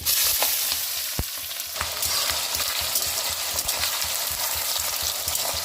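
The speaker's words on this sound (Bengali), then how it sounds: "পেঁয়াজটাকে আমি একটু লাল লাল করে ভেজে নেব" Sliced onions frying with whole garam masala and bay leaf in hot oil, giving a dense, loud, continuous sizzle close by, with a few sharp scraping stir strokes and no voices.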